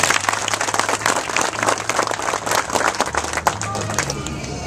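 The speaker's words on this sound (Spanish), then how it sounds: "para la cual pido un fuerte aplauso" An audience at a National Police community event in Los Tres Brazos bursts into loud, sustained applause, a thick crackle of many clapping hands with crowd murmur running beneath it.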